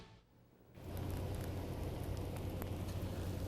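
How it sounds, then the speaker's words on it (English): Sleet falling steadily on roads in Greensboro during an ice storm, a dense, continuous hiss with a low rumbling undertone that swells in after a brief quiet moment and stays loud. "you can hear the sleet falling"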